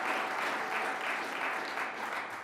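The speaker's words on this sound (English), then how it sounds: "Let's give a round of applause for Congressman" Steady, dense applause from an audience at a New York State governor's announcement in Western New York, cheering Congressman Brian Higgins; continuous and fairly even, sustained throughout with no voices standing out.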